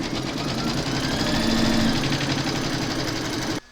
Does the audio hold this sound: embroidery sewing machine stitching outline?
yes